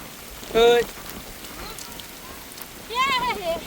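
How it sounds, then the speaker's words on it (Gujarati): Steady rain patters throughout on a village farm field during planting of chilli and brinjal seedlings, with short bursts of voices rising over the wet hiss now and then. "આવી ગયો વરસાદ વરસાદ આવી ગયો"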